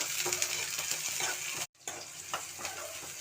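Onions sautéing in hot oil with popped mustard seeds for potato masala, a steady close sizzle with stirring scrapes, broken by a brief silent gap midway.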